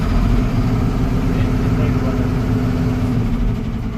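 A lorry diesel engine idles steadily after starting, a low continuous rumble with even loudness throughout, close by and running under faint background sound.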